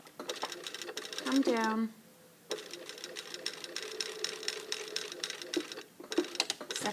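A sewing machine stitches two blazer collar pieces together in brisk rapid bursts, with a short pause, running close under a person's talking.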